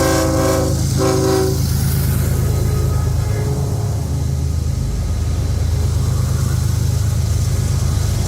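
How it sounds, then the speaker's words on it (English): Norfolk Southern freight train NS 143 heads south near Kings Mountain with a Union Pacific GEVO locomotive leading and an AC44 on the rear, sounding two loud, close horn blasts before its heavy, steady rumble rolls past. "caught NS 143 heading south, with a UP Givo leading with a UP AC 44 on the rear of the train"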